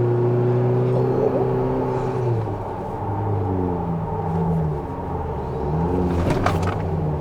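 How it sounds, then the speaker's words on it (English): A Toyota Tacoma pickup driven hard to test understeer and oversteer, its engine a loud, steady rumble whose pitch climbs, dips and climbs again with throttle, heard up close from inside the cab with no talking. "we're going to check for understeer, oversteer, and make sure that we can't get this thing sideways"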